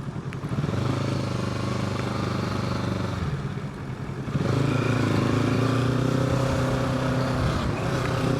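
A Kawasaki Z650 ABS motorcycle engine drones steadily while riding, shifting pitch midway as it accelerates, with wind rumble throughout and no talking.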